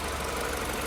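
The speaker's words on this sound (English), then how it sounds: "engine is idling and running just fine." A Mini Cooper R56 engine idles steadily in a garage, its low, even hum running at a constant level without variation.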